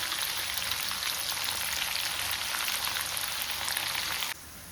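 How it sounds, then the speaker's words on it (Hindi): Steady, loud sizzling of onions frying in hot oil for a tadka, a dense crackling hiss that continues without pause and drops away abruptly near the end. "अब हम ये प्याज भी डाल देते हैं और इसको अब हम अच्छे से लाइट गोल्डन फ्राई होने तक पका लेते हैं"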